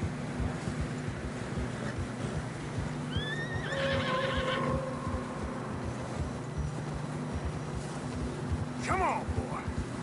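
Horses in Red Dead Redemption 2 whinny and clip-clop through fresh snow on a narrow trail, with two rising neighs standing out over steady hoof plods and a low ambient rumble.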